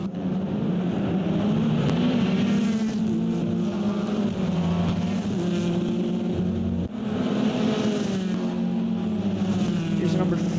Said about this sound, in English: trying to overtake the Team 25 Sharkcast sponsored Hyundai on this front stretch